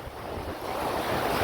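Sea waves wash onto the shore at Tiruchendur on the Bay of Bengal coast, a close, continuous roar of surf mixed with wind rushing across the microphone, rising slightly over a brief moment.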